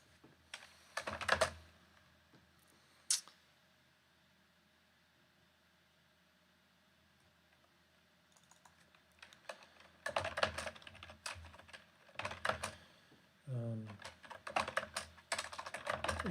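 Typing on a computer keyboard in a quiet room, with bursts of rapid clicking key strokes separated by pauses, close and moderately loud.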